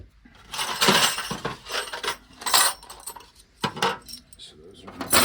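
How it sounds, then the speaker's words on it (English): Metal Allen keys jangle and clink as they are dropped into a drawer, several bright rattling bursts in quick succession, close and fairly loud. "So those are my Allen keys."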